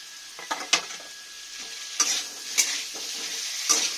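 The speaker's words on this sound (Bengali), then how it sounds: "কাঁচা লঙ্কা আদা সব একসঙ্গে বেটে নিয়েছি, একটু ভালো করে কষে নিলাম।" Ground ginger and green chilli paste frying in a pan for a vegetarian papaya dish, with a steady sizzle broken by a few sharp spatula scrapes and taps, close and moderately loud, no voices.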